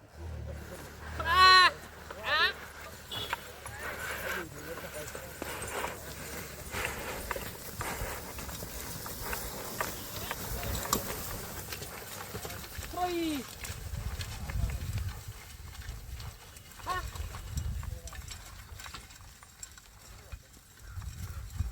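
Bullocks walk on the ground with irregular hoof clops that come and go, often at a distance. People talk throughout, and rustling handling noises surround them.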